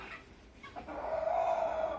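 Sultan rooster giving a single drawn-out crow or call, moderately near and fairly quiet over faint background noise.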